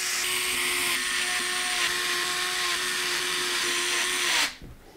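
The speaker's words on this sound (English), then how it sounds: "I'm going to use some long radiator screws to secure the bracket to the fans to the radiator" A power screwdriver drives long radiator screws through a fan bracket into a 360 radiator on a Lian Li Galahad II cooler install, one steady high whine running about four seconds, then cutting off abruptly.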